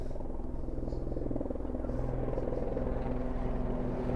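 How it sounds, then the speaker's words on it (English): A low-flying helicopter thuds steadily overhead in a rapid rotor pulse, loud and continuous against outdoor background noise near a waterfront pier in winter. "Got a low-flying helicopter over here today."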